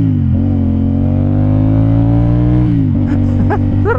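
A 2024 CF Moto 450 SR-S two-cylinder motorcycle engine revving: a loud, steady growl held close up, pitch rising slightly, then a dip and several quick blips of the throttle near the end.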